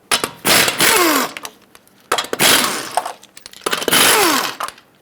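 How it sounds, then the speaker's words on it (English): Lug nuts coming off a 2006-2011 Honda Civic front wheel with a 19mm socket on a power tool, three loud close whirring, rattling bursts each about a second long with pauses between, no speech. "Use a 19mm socket and take off all 5 lug nuts so you can pull the hubcap and the wheel off."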